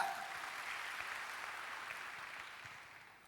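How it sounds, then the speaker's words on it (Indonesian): A church congregation at a GBI Rock Sunday-morning service gives a round of applause during a sermon, a steady, soft wash of many hands clapping that fades slightly toward the end, with no voices. "berikan tepuk tangan bagi dia."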